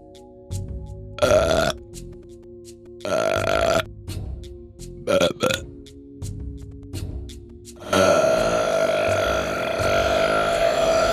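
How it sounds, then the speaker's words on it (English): A giant cartoon wombat lets out a string of loud, close burps for an animation, several short belches followed by one long drawn-out rumbling burp at the end. "A very rude giant wombat who had eaten way too much burped his way past her and disappeared down into his burrow."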